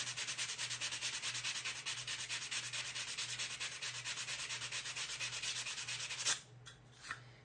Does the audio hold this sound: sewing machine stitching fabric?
no